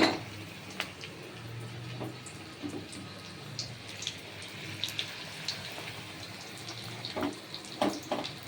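Onion pakora batter made with ground Gobindobhog rice lands in hot frying oil, giving a steady close bubbling sizzle with scattered sharp crackles and pops that grow busier toward the end.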